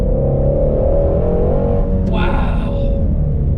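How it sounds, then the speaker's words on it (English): Ford Shelby GT350R exhaust rumbling steadily with a deep, loud drone, the engine note swelling slightly as it revs. "And that exhaust, I mean, come on. That is just ridiculous"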